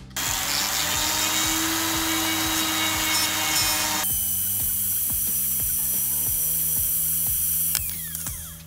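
A power carving tool fitted with a diamond bur sands wood, giving a continuous loud high whine over rapid, regular mechanical ticking; the pitch shifts midway and the tool winds down at the end.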